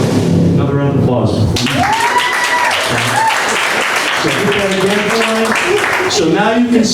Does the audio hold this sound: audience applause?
yes